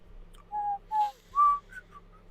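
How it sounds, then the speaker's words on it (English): A person whistles a short tune of a few clear, sustained pitched notes, close by over a low steady hum. "Just whistling."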